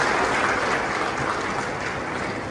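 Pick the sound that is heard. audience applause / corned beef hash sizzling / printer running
audience applause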